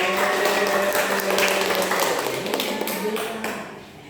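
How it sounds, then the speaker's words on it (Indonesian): Schoolchildren in a primary classroom applaud a classmate, with quick overlapping hand claps near and loud, mixed with children's voices, tapering off toward the end. "Ya betul, tepuk tangan tuh Dea"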